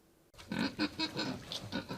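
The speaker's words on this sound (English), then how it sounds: "One of the queens of England really liked Berkshire pigs." A Berkshire pig grunts and oinks close by, a quick run of about seven short throaty snorts in a steady rhythm, with no talking.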